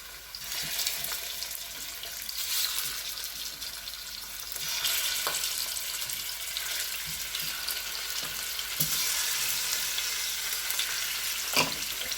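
Chicken drumsticks fry with garlic in a hot pan, a dense, continuous sizzle and crackle with occasional stirring clicks, close and fairly loud, with no voices.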